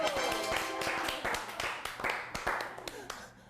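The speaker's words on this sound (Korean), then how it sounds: "박수 안 칩니까?" Applause rises at a Seoul city council news program as a host prompts the room, a burst of many hands clapping close and fairly loud over roughly three seconds before tapering off.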